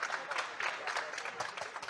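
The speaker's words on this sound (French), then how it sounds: "vous pouvez vous applaudir bien fort" A warehouse team at an Amazon logistics centre applauds itself, giving a sustained patter of many hands clapping together that sounds faint and somewhat distant.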